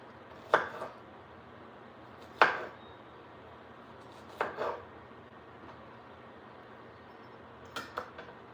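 A knife chopping onions on a cutting board in a home kitchen, with four separate cuts at uneven intervals, the last a quick double stroke. Each is crisp and close over a quiet background hum.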